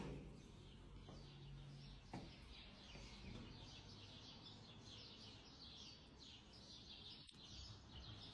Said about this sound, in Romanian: Am tăcut o clipă ca să auziți ciripitul păsărelelor.